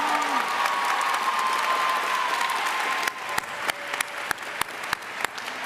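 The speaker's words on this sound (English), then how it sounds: "Can we get a big round of applause for our graduates?" Sustained applause from a large graduation audience at a university art and immersive media design commencement ceremony, a dense steady clatter of clapping that thins out after about three seconds into scattered, separate claps.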